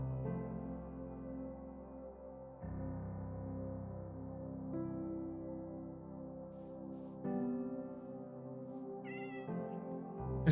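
A cat in the video game Minecraft meows in short calls over a steady backdrop of layered game music, with a brighter chirping meow near the end.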